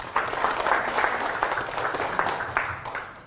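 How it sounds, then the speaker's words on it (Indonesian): Audience applause at a product presentation for a new coffee latte and cappuccino drink, steady crowd clapping lasting the full moment with some individual claps standing out. "Tepuk tangan."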